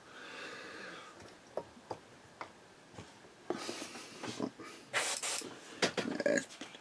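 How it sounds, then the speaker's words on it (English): An airbrush and its compressor used to weather a Trumpeter M1133 Stryker MEV scale model give a series of sharp clicks, then short bursts of hissing spray that grow louder and longer toward the end. "Compressor on."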